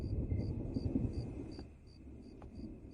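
Low thunder rolls from an approaching storm, a muffled rumble that swells and fades, with crickets chirping steadily above it and faint rain-like hiss in the background.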